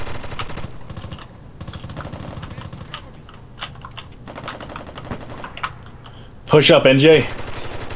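Gunfire in America's Army: Proving Grounds, a rapid run of close, sharp shots clattering through the scene, with a louder burst near the end and a brief voice over the action.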